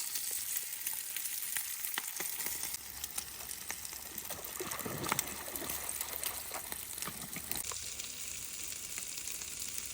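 Bacon frying on a Blackstone griddle gives a steady, dense sizzle and crackle throughout, close and constant, with light scraping now and then and no talking.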